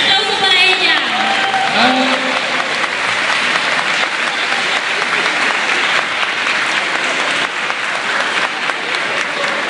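Sustained applause from an audience at a cosplay runway show in Gijón, loud, dense clapping throughout with crowd noise and a voice over it early on.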